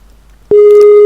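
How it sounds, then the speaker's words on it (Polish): A telephone line connects with a soft click and then gives a loud, steady tone that holds without a break to the end. The call is a phone call to Germany. "Jest sygnał"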